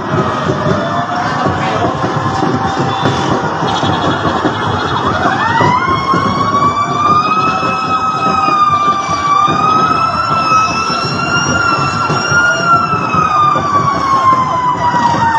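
A loud fire truck siren wails continuously nearby during a fire in Tondo, Manila, its pitch rising and falling over a busy street background.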